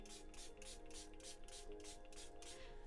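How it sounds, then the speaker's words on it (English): A small eyeglass pump sprayer misting paints gives a series of quick, soft hissing bursts, about ten in a steady rhythm, close and fairly quiet. "when you hear me spraying my paints, I'm just using a little eyeglass sprayer."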